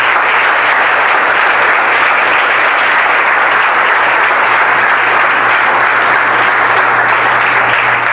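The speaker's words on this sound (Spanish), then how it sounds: "Vamos, se le va a aplaudir, aplausos." A church congregation applauds steadily for the whole stretch, a dense and loud wash of clapping with no pauses and no voices rising above it.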